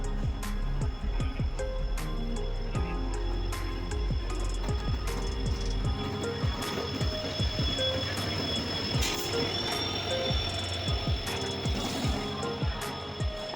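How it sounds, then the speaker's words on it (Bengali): The Samaleswari Express pulls into Howrah station, with dense metallic clanks and rhythmic wheel clatter over rail joints plus a faint high squeal, heard steadily from the platform for several seconds. "আমাদের ট্রেন এসেও গেছে দেখো"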